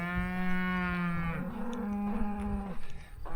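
Cattle on a farm give one long, close, resonant moo that lasts nearly three seconds and then fades, with faint outdoor background noise and no talking.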